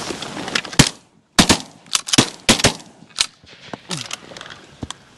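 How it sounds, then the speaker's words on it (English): Shotguns fire on an opening-day duck hunt in Canada, a loud, close volley of about half a dozen sharp blasts in uneven succession, some overlapping, with no talk. "Nice shooting, boys."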